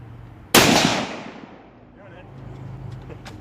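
A single sharp gunshot strikes a cinder block, a loud close crack with debris bursting outward and a long decaying rumble, followed by quieter outdoor ambience and faint voices.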